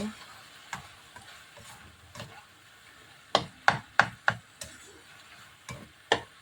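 Eggplant and pork being stirred in a pan with black pepper, in an Ilocano puki-puki dish; a spoon scrapes and knocks against the pan in a series of sharp, close clacks, closely bunched in the middle, over a faint sizzle.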